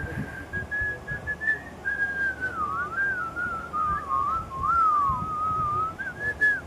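Someone whistles a wavering, meandering tune, fairly soft, over a faint background hum.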